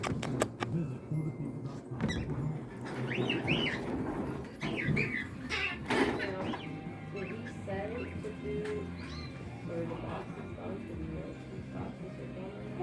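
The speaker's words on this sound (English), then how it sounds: "Look at all the birds in here." Exotic birds in a large bird store coo and chirp in scattered calls, fairly close, mixed with a person talking over them.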